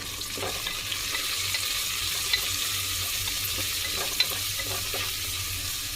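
Spinach dal stirred in a pot, with a low steady bubbling hiss and a handful of soft spoon knocks and scrapes at irregular intervals, no speech.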